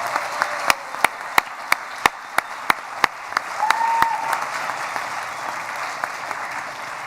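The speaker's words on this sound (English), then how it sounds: "One last round of applause as they're getting set." Applause from a conference audience at a keynote and technology award ceremony, steady clapping filling the room with several sharp, louder individual claps punctuating the wash throughout.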